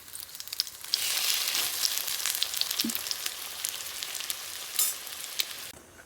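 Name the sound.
frying food in hot oil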